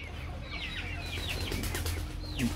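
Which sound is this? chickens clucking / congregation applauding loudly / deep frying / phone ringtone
chickens clucking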